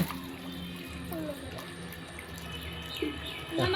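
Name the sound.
fish and water poured out of a pipe onto the ground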